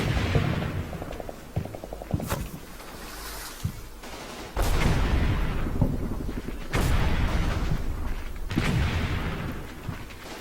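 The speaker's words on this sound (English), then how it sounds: "over there my tanks are shelling the infantry a bit more" Tanks shelling infantry in the Combat Mission Red Thunder war game: a steady rumble of battle with repeated sharp cannon blasts and rattling gunfire at irregular intervals, loud and close.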